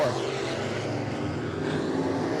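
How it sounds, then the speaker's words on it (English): 602 modified race cars coming off turn four at New Smyrna, a loud, continuous roar of engines droning together without a break. "All right, 602 modified, set for a 20-lap feature. Here they come off turn number 4."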